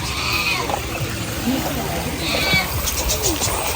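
Sheep bleat softly at a farm animal-feeding area in Mae Rim, Chiang Mai, with several thin calls heard beneath someone talking close by and general outdoor crowd noise.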